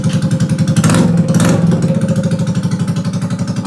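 A Yamaha NMAX Turbo scooter, rust-covered after being submerged in seawater, runs just after repair: a loud, close engine with a rapid pulsing chug, a brief rev swell, then settling into a steady idle.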